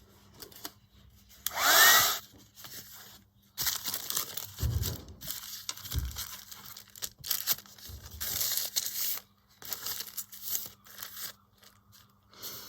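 A hair dryer blows over paper on a handmade craft tag booklet, rushing in uneven bursts that stop and restart, with a few soft rustles and thumps of handling nearby.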